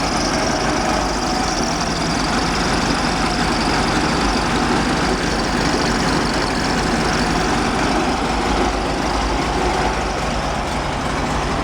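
A 1954 Volkswagen Beetle engine idles steadily and loudly throughout, with carburetors recently adjusted and the idle still somewhat rough, a continuous close-up mechanical drone.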